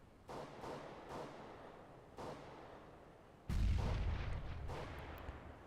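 Rapid gunfire from an M4A1 rifle and a USP pistol in a competitive Counter-Strike match, heard as several sharp bursts at a moderate distance, then a louder, heavier burst near the end.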